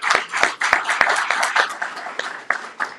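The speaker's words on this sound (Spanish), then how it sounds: "con un fuerte aplauso." Audience at a 2025 AI conference in Armenia clapping loudly, with sharp individual claps standing out over a dense, close burst of applause.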